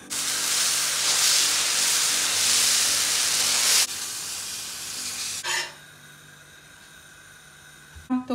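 Dosa batter sizzles and hisses loudly on a hot pan for several seconds, then the sound drops away, followed by a short clatter and quiet background.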